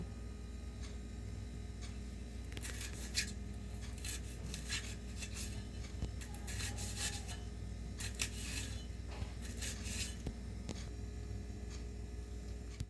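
Knife slitting green chillies in a home kitchen: faint, scattered ticks and soft rubbing scrapes in small bursts over a low background hum, quiet and close, with no talking.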